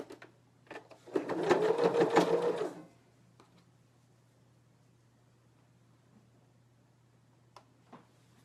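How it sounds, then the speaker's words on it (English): A sewing machine stitching a shoulder seam, a close, fast mechanical whirr lasting about a second and a half, then stopping to a low background hum and a few faint handling clicks. "I sew from the center out to one edge, and then I'll start back here and go back over"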